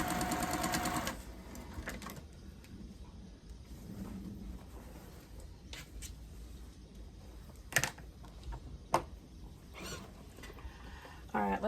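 A sewing machine stitches quilt fabric scraps in quiet, steady runs with a few sharp clicks and taps, and a voice talks at the start and over parts of the sewing.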